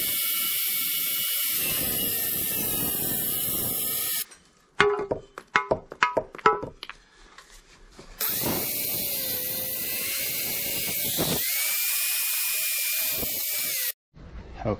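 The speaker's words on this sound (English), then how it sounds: "Now I'm going to score it right here so that it doesn't leave a ragged edge right there" A power tool scores a cultured stone wall cap with a loud, steady high-pitched grinding whine in two long passes, broken by a pause filled with short ratcheting clicks.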